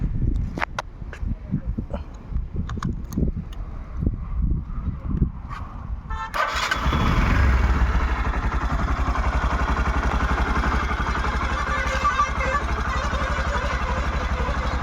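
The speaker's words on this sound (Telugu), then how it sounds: "మీరే చూడొచ్చండి, ఇంజన్ కూడా స్మూత్గా ఉంది." A 2022 Bajaj CT 125 motorcycle engine starts partway through and settles into a steady, smooth idle with a constant low hum, preceded by a few seconds of someone talking and handling noises.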